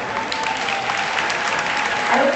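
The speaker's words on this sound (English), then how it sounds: "we all give a big round of applause to Jamal" Crowd applause at a fashion week opening night gala, a thick, fairly loud sustained clapping from many guests with a faint vocal murmur mixed in near the end.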